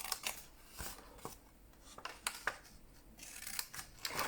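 Scissors snipping straight through a folded paper box, a series of short crisp cuts scattered across a few seconds, close and fairly quiet with no talk.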